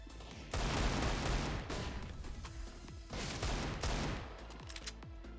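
Rapid gunfire in Counter-Strike on the Overpass map, with several loud bursts of shots and a steady background rumble running through the clip.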